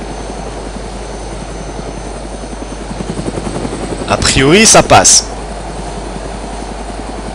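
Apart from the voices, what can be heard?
helicopter flying in the video game DayZ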